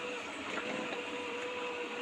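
An automatic robot vacuum cleaner runs in a home in Korea, giving a faint, steady whirring hum with a thin, constant whine and no voices.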